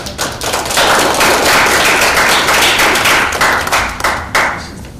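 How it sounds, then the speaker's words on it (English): Loud, dense round of applause from a school audience for a student presenting her photography business, rising quickly, holding steady, then thinning into scattered claps. "So let's give her a round of applause"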